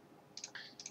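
Quick mouse clicks made while locking an object in Inkscape, a few faint sharp ticks in short succession over quiet room tone.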